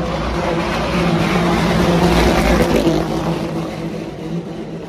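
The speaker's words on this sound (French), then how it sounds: "Ça c'est les voitures historiques. Elles font un bruit." A loud, continuous engine roar from historic racing cars at the Spa 24 Hours, rumbling and steady throughout.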